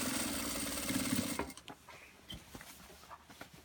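A sewing machine stitches across fabric, a fast steady mechanical whir up close that stops after about a second and a half, followed by faint handling clicks and rustles.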